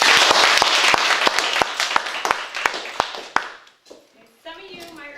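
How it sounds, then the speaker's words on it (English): A small classroom audience claps for a student after a demonstration speech, with sharp, distinct handclaps that thin out and stop after about three seconds before a voice begins speaking. "let's clap for Heather, everybody."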